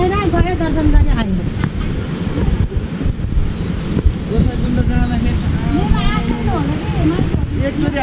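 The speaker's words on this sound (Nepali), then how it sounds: "एकचोटि हावाले त करेन्ट लाग्यो जस्तो" Strong wind roars and buffets the microphone at the Bindukesar Mahadev mountain temple on the Nuwakot–Dhading border, loud and continuous, with people talking underneath.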